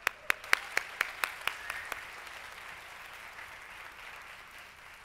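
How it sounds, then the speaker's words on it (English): A room of listeners claps to greet a speaker taking the stage at a fashion and micro-factory talk. A few sharp, loud individual claps come first, then spread into steady general applause that slowly fades. "Please, a nice warm round of applause."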